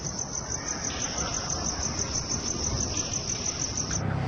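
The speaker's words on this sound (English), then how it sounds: "with the noise of the crickets" Crickets chirp in a dense, continuous high pulsing trill, steady and close, filling the night air with no voices.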